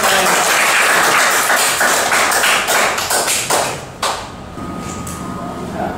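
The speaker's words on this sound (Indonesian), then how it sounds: "Tepuk tangan dong buat kalian." Students clap together in a classroom, a dense burst of close applause that thins out after a few seconds into scattered taps and a quieter room.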